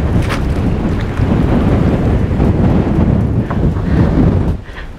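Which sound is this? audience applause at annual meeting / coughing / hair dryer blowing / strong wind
strong wind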